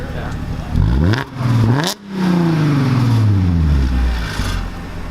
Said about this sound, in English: It sounds nice, right? That's what a good engine sounds like.